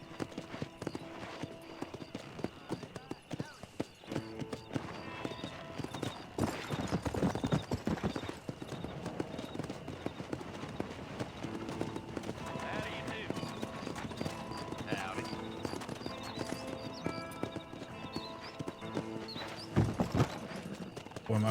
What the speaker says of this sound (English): my horse sure does love jumping those fences.